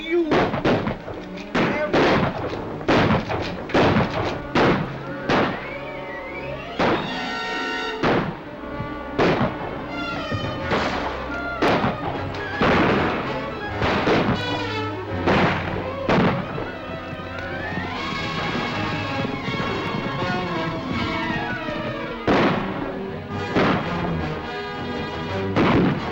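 A western film shootout with a sheriff: a rapid series of loud gunshots and ricochets, irregular bursts spread across the whole stretch, with shouting voices mixed in.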